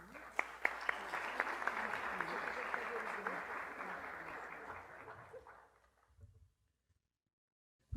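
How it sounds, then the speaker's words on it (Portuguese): An audience at a Brazilian awards ceremony on housing rights applauds a speaker coming on stage, a dense crowd of claps mixed with some voices that builds briefly, then fades out to silence. "Palmas, por favor"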